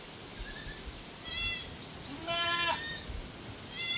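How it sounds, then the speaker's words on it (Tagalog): A goat on a farm gives several wavering bleats, one longer and clearer in the middle with others faint and brief around it, heard at a moderate distance over constant outdoor background noise. "Ito po yung kambing natin ngayon."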